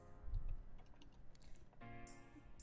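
Faint clicking of keys on a computer keyboard, a short run of soft taps with a low hum underneath and no speech.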